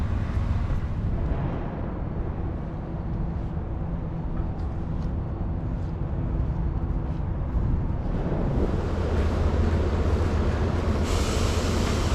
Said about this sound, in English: the station is also served by these RTD commuter trains